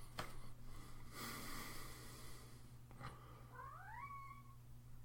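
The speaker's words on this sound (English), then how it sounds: "Sorry, that was my cat." A pet house cat lets out a couple of drawn-out meows with a rising, wavering pitch, close to the microphone in a quiet indoor room, with soft breathy noises before them and no speech.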